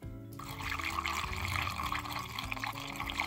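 Diesel fuel draining through a hose out of an engine cooling system during a flush, a steady close gushing liquid flow that starts abruptly and continues unbroken.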